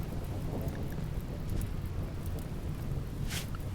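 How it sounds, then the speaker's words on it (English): Steady rain in the colony-building game RimWorld, a constant dense hiss of falling drops with a low rumbling bed, even and unbroken throughout, no talking. "Oh, now it's raining."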